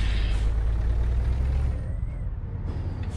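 Air brakes on a truck in American Truck Simulator give a loud hissing release over a low engine rumble, which then fades as the hiss drops away near the end.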